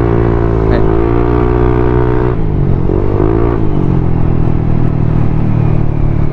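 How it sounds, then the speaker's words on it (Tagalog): Motorcycle with an opened-up, very loud exhaust pipe at a bike gathering at a grill restaurant, droning close and steady with short throttle blips and revs, and some voices faint beneath it. "Kung maririnig yung mga boss, yung pipe natin is sobrang lakas na."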